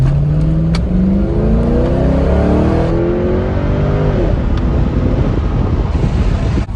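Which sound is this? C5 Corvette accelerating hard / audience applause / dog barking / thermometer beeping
C5 Corvette accelerating hard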